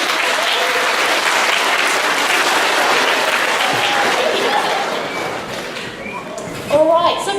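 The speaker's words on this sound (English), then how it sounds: "Everybody give them a round of applause." Audience applause after a science demonstration, steady dense clapping that gradually thins and softens toward the end, with a brief voice and a knock near the close.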